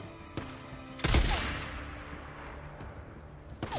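Gunfire in the video game Days Gone: a few sharp shots, with one heavy close blast that rings out and slowly fades, then another shot at the end.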